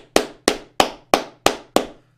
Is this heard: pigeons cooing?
no